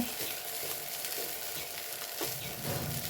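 A bitter gourd and prawn stir-fry sizzles steadily in a pan while it is stirred, with scraping strokes rising now and then above the close, continuous frying hiss. Nobody speaks.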